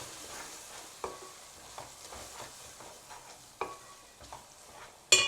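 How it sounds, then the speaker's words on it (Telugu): Masala paste for kushka rice frying in hot oil, a soft continuous sizzle broken by several stirring scrapes and clinks at irregular intervals, close and fairly quiet with no voices. "ఒక 2 నిమిషాలు ఈ ఆయిల్లో ఫ్రై అయినిద్దాం."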